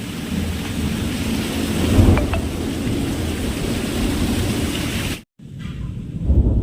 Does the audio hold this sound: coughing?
no